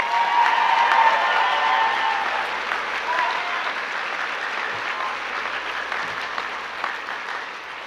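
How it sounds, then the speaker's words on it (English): Audience at a community focus program graduation ceremony applauding, a sustained round of clapping that starts strong and gradually thins out over several seconds. "So let's give them a round of applause again."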